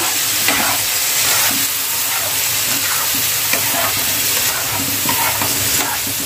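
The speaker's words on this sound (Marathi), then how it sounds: "पनीर आपण चांगले याच्यामध्ये फ्राय करून घेऊया" Paneer frying in oil in a pan makes a loud, dense, steady sizzle close by, with occasional soft scrapes and taps of a spatula and no talking.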